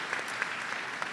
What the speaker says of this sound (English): Big round of applause to that.